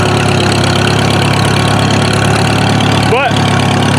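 A vehicle engine runs steadily at an idle, a loud constant rumble filling the whole stretch without a break.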